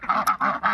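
Khaki Campbell and White Pekin laying ducks quacking in three loud, close, nasal calls in quick succession, with no talking.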